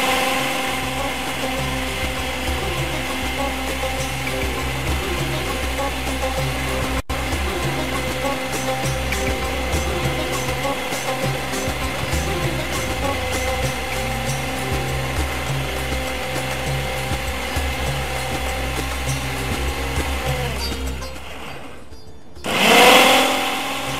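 A blender finely grinds seekh kabab mixture, a loud steady motor whir running continuously for over twenty seconds, then it stops and a brief rattle or scrape follows near the end.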